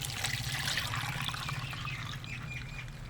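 Soaked liquid plant fertilizer for roses and hibiscus is poured out in a steady close trickle and splash that runs for several seconds, with faint bird calls behind it.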